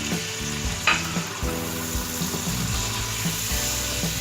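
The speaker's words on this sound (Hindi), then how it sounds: "प्याज ब्राउन हो गए हैं, इसमें लहसुन अदरक डाल देंगे।" Browned onions with garlic, ginger and spices sizzling and frying steadily in a pan for a Lahori chikar cholay, with stirring knocks and scrapes across the continuous hiss.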